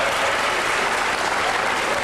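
Crowd at a professional wrestling match applauds steadily for Doug Williams before the bout, a dense, even wash of clapping throughout.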